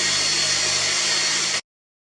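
An electric paint sprayer runs during a test with a steady, loud airy whine like a hair dryer, cutting off abruptly after about a second and a half.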